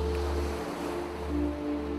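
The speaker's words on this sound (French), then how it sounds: "Autorisez maintenant le son des vagues à passer à travers vous" Ocean waves wash in a continuous, soft surf sound beneath sustained calm tones during a guided relaxation meditation, with no voice in this moment.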